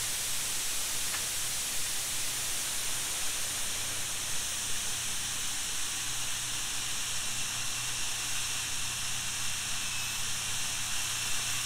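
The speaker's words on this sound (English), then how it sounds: "a little bit of surging is happening here" A model jet turbine engine running at about 120,000 RPM and surging, giving a continuous loud, close, airy roar and hiss with a faint low rumble that wavers slightly in strength.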